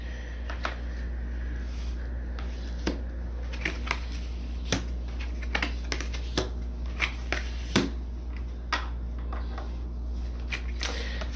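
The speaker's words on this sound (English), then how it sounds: "Just going to get all the cards laid out first." Tarot cards are dealt and laid out one by one on a table, making soft, irregular snaps and slaps over a steady low hum, with no talking.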